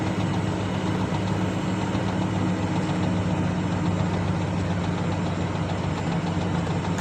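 A car engine running steadily while climbing a mountain road near Mae Sot at night in fifth gear at low revs, a constant low drone with a mid-range hum, close and unbroken, with no talk over it.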